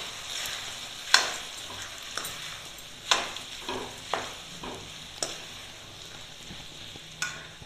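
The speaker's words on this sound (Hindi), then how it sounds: "अब इसको हम थोड़ा सा चलाएंगे।" A spoon stirs sabudana khichdi with roasted ground peanuts in a pan, giving a soft steady sizzle broken by about seven sharp scraping strokes at irregular intervals, close by, with no talk.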